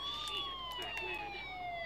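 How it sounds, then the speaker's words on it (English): Police sirens in the video game Batman: Arkham Asylum wail continuously, their pitch gliding downward, with faint talk and clatter mixed underneath. "Sirens. The police."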